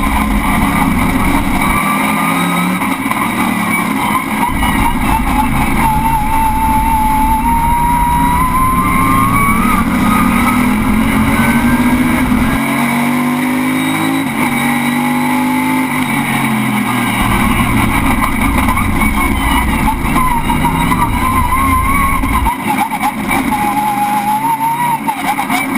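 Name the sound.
race car engine, 500 bhp time attack car at Achna Speedway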